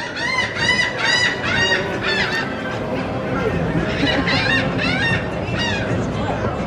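Seagulls at a boardwalk being fed call repeatedly in loud, close, overlapping squawking bursts, with crowd murmur and low voices underneath.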